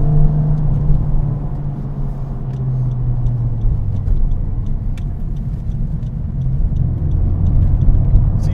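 A Honda Civic Type-R FK8 engine drones under throttle from inside the cabin, a deep continuous rumble with road noise that swells slightly toward the end.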